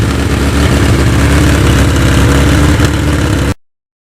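A Yamaha MT-09 motorcycle engine idles steadily and loudly up close, a continuous low rumble with no talking, cutting off abruptly near the end.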